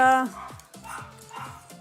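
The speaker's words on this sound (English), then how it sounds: "I think she's a very good doggy." A half-rescue dog gives a rapid series of small yips and whimpering barks, several quick bursts in a row up close, with a person's voice heard at the start.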